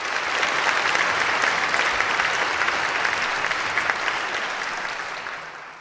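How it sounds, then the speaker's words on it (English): Loud, sustained applause from a large audience at a medical conference event for a group of musicians, dense clapping that holds steady and then slowly fades toward the end. "Let's have another round of applause for those very talented musicians."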